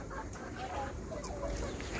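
Native village chickens cluck in short, scattered bursts at a low level, against a quiet outdoor background on a farm.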